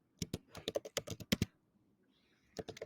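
Rapid keystrokes on a computer keyboard type out a task description, a quick burst of clicks, a brief pause, then another run of taps, close and crisp.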